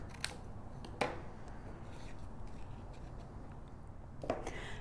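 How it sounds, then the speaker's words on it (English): Scissors cutting a decorative paper frame in half for a mini album, with a few faint, sharp snips spaced apart over quiet room noise. "just cut this approximately in half"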